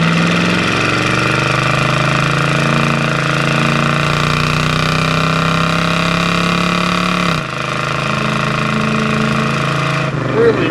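A 1971 Plymouth Roadrunner's engine drones steadily and loud during a test drive, with a gear change or shift in pitch near the end and a rough, throaty rumble throughout.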